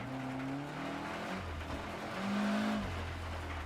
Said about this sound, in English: Legendary rally car.